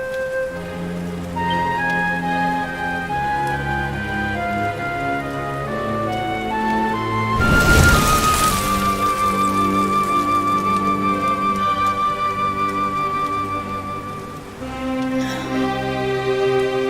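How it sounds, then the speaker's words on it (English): Steady rainfall patters across the ground in the video game Dragon Quest XI, a continuous even downpour beneath soft sustained background music, swelling briefly into a louder wash midway. "Looks like the rain's dying down."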